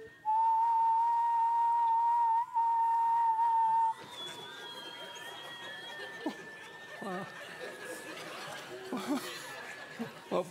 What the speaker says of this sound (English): let's whistle together one of the greatest whistling songs in all of history